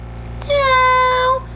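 A single drawn-out cat meow, close and clear, rising then sliding down over about a second against a low steady background hum, with no talking.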